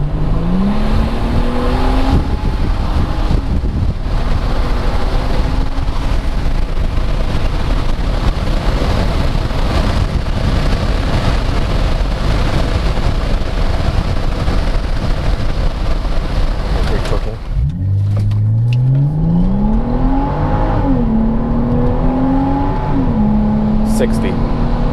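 A Euro sports sedan in sport mode accelerates hard on the road, its engine note climbing through the gears with a loud, continuous roar, then a shift and a rising pitch again, backed by wind noise.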